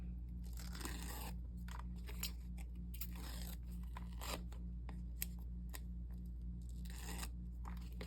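Adhesive backing peels away from a piece for a handmade 5x7 card, heard as quiet, close crinkly tearing and scraping bursts in short irregular strokes over a low steady hum, with no talk.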